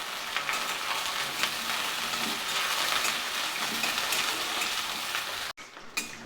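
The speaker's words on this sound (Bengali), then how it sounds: "বেগুন এবং পেঁয়াজটা একসঙ্গে ভাজা হয়ে যাবে" Brinjal and onion fry together in a hot wok, giving a steady dense sizzle with scattered crackles that runs continuously, then briefly cuts out near the end before resuming more faintly.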